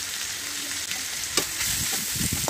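Chicken sizzles in a pan with chopped onion, ginger-garlic paste, green chili, salt and ground spices, a steady frying hiss broken by scraping stir strokes near the end.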